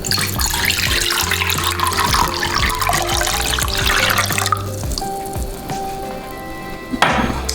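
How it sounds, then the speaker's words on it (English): Water pours steadily into a mixing bowl for oil-free, gluten-free vegan burger bun dough, a close, continuous splashing rush that thins and changes tone partway through before a brief clatter near the end. "the first thing I'm going to do is pour my water in the bowl"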